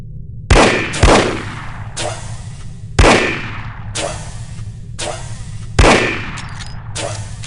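Revolver shots in the spy shooter game The Operative: No One Lives Forever ring out as six loud, sharp reports at irregular intervals, each followed by a short decaying tail over faint background.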